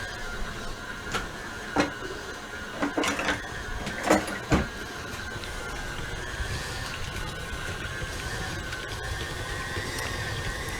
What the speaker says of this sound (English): We're going to beat it, let it cream together on a slow medium for a couple of minutes